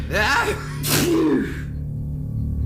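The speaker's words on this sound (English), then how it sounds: "The loudest sneeze I've ever had shot across the house like a rocket blast." One loud, sharp sneeze with a breathy intake before it, close up, followed by quiet room hum.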